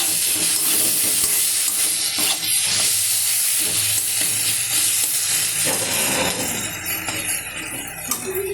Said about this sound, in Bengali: এই যে মশলাটা কষিয়ে দিই, দেখুন